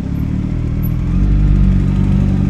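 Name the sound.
motorcycles on the road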